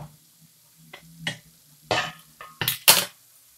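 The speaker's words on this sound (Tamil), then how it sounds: "இப்போ நம்ம மூடி போட்டுலாம்" A metal lid is set onto a pan of beetroot poriyal: several light clanks and clatters of cookware close by, separated by short quiet gaps, with no talking.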